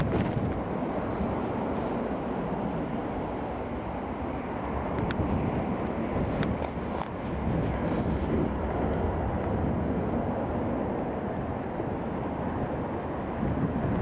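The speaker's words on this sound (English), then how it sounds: "Ryanair now taxiing to the runway." Steady, broadband roar of a Ryanair jet taxiing to the runway at Newcastle International Airport, a continuous engine rumble heard from a distance with wind buffeting the microphone.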